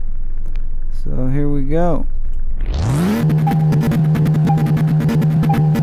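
A crusty restored Porsche 911 Turbo in the Car Mechanic Simulator video game revs sharply up from idle and then holds at the rev limiter with a loud, stuttering buzz, after a brief spoken line.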